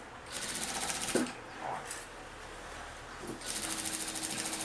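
Sewing machine stitching a unicorn-themed tablet case, quiet rapid mechanical chattering in three bursts separated by short pauses while the fabric is turned, with soft handling clicks between runs.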